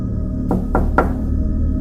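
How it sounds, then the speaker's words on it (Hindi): Three firm knocks on a door, evenly spaced and fairly close, sounding in a horror story over a low droning background. "कोई बाहर से मेरे दरवाजे को खटखटा रहा था।"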